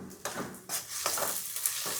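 Chopped onions and green chillies frying in hot oil for an Andhra-style fish curry, stirred in several sharp scraping strokes over a continuous close sizzle, no voices present.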